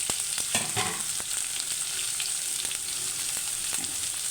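Onion, green chillies, garlic, ginger and curry leaves fry in hot oil with a steady, bright sizzle and occasional soft pops and stirring clicks, close up and without speech.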